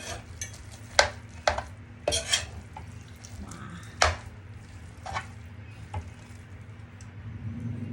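Arroz Valenciana being stirred hard in a pan, with sharp clanks and scrapes of the spoon against the metal at an irregular rhythm over a low background hum, with no talk.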